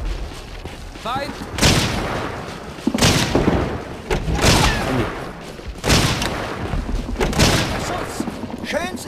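Gunfire in the World War II-style tactical shooter Hidden and Dangerous 2: loud, sharp bursts of shots in repeated volleys a second or two apart, with booming echoes, over a steady battlefield din.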